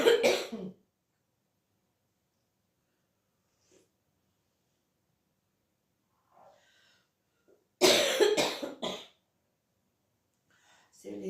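A person coughs nearby in two separate bouts, a short burst at the start and a longer harsher fit a few seconds later, with near silence and faint breathing between them.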